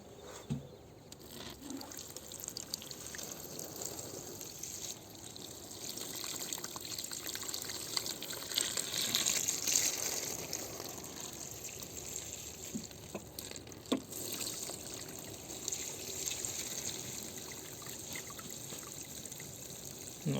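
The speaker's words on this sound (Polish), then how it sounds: "A teraz będziemy to zalewać wodą, żeby się przez noc namoczyło dobrze." Water pours steadily into a 60-litre tub holding blocks of mushroom-growing substrate set to soak, a continuous hissing trickle running for about twenty seconds at moderate level with a few small knocks and no talking.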